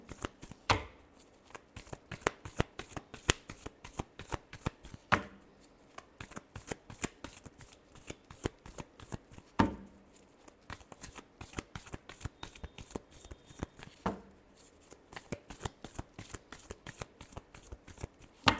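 Tarot cards are shuffled close up in repeated runs of quick, crisp riffling flaps, with brief pauses between rounds.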